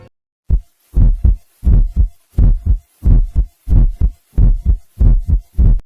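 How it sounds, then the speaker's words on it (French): A singer's own recorded heartbeat from the intro of a song, captured at Westlake studio in Los Angeles: a steady run of deep, loud, close double thumps in regular rhythm, with nothing else over it. "incorporant alors un battement de cœur suggérant une certaine tension pour le titre"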